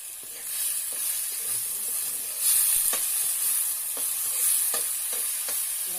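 Chopped potatoes fry with banana flower in a pan. A loud, steady sizzle runs throughout, broken by repeated clicks and scrapes of stirring.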